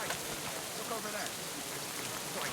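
Steady rain falls in the medieval world of the video game Kingdom Come: Deliverance II, a dense even hiss of drops with faint voices murmuring underneath.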